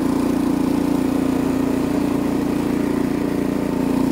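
An Ariens snowblower engine runs in first gear with a steady, loud, even drone that holds constant throughout, with no voices over it.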